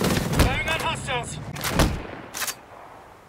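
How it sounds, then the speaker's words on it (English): Gunfire in the video game Ghost Recon Breakpoint, a few sharp shots mixed with spoken voices over a short stretch. "Firing on hostiles!"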